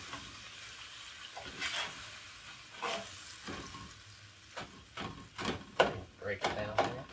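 A Birds Eye Voila beef lo mein skillet meal simmers with its sauce in a skillet, a soft sizzle under irregular scrapes and stirring knocks, growing busier toward the end, with no clear speech.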